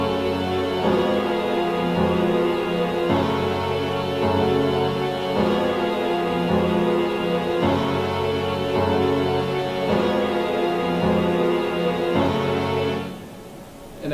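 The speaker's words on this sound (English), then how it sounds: "So the organ and brass with the piano sounds like this." Organ and brass sustain a 1-5-octave chord progression together with piano, a full, steady wash of held chords changing every couple of seconds, close and without voices, fading out near the end.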